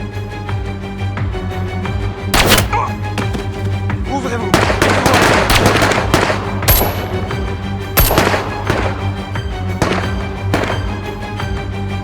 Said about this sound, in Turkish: Silah sesleri arttı